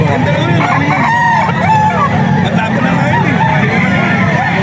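A stag gamecock crows at a busy market amid other chickens and roosters clucking, with a crowd's chatter and voices running underneath throughout.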